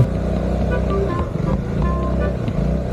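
Forza350 motor scooter riding along a rough, broken road, its steady engine drone loud and continuous with wind buffeting and bumps throughout.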